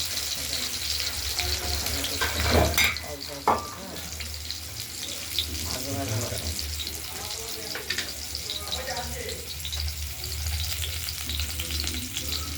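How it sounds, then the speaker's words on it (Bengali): Potatoes fry in hot oil tempered with bay leaf, chili and cumin in a wok, a steady close sizzle running throughout with occasional stirring scrapes and clinks, and a voice speaking briefly over it. "ফোড়নের মধ্যে আমরা আলুগুলো ভেজে দেবো"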